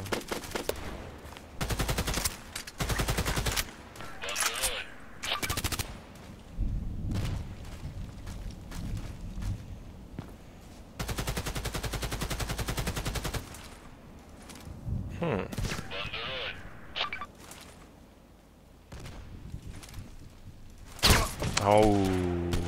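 Gunfire in the Contract Wars shooter game, repeated bursts of automatic fire and single heavy shots with sharp cracks and a few thuds, loud and close, separated by short quieter gaps.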